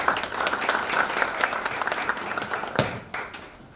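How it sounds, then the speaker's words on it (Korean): An indoor audience at a forum on fine-dust emergency reduction measures claps for a presenting professor, a dense burst of applause that thins out and fades after about three seconds. "발제를 해주신 교수님에게 큰 박수 한번 부탁드리겠습니다"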